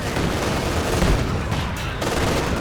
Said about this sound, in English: There goes the mortar